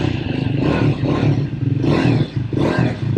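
A Triumph Scrambler 400X motorcycle pulls away, its engine rising loud and close through a couple of revving surges with some clatter, no talk.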